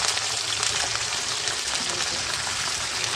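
Cut potato pieces fry in hot oil in a kadai for a prawn chocchori, giving a loud, close, continuous crackling sizzle with no pauses.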